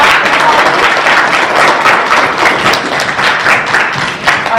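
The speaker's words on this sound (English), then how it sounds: "Well done, everyone. Let's clap." A school class claps for the participants of a science quiz, loud, dense and continuous applause from many hands filling the room for several seconds.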